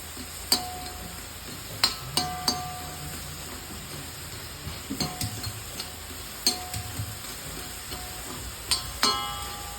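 Potatoes frying in hot oil for a Kerala-style egg curry, a steady low sizzle with sharp clinks and scrapes of a utensil stirring against the pan at irregular intervals, close by with no talking.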